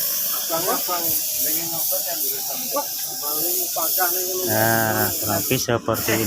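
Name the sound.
spray painting a Honda Beat motorcycle body candy red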